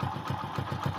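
A Hero Splendor motorcycle engine idles after a timing chain replacement, a close, even putter of low exhaust pulses about five per second, steady and smooth with no talking.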